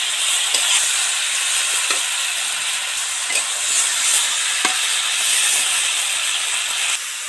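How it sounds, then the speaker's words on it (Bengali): Spices and vegetables fry in oil in a pan, with a steady, close hiss and sizzle throughout and a few faint clicks of stirring. "মশলা দিয়ে সবকিছু তো ভাজা ভাজা হয়ে গেছে, সবজি থেকে তেল ছেড়ে গেছে"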